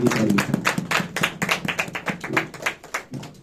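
A church congregation claps together, with dense, fast and fairly loud applause that holds steady, then thins into looser, more scattered claps toward the end.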